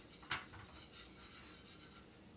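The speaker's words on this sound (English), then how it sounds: "I need to stir it while I add the milk" A utensil scrapes and clinks against a pot as milk is stirred into mac and cheese sauce, with a few soft metallic taps and rubbing strokes over a quiet background and no voices.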